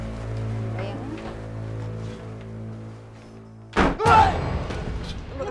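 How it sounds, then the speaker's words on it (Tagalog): A door shut hard inside a house, one sudden loud thud followed by a rattling burst, after a stretch of low droning tones with faint voices in the background. "Sinara ko lang yung pinto."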